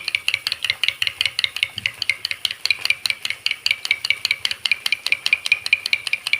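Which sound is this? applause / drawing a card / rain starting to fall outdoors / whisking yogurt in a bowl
whisking yogurt in a bowl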